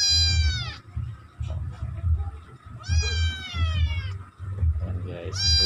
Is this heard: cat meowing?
yes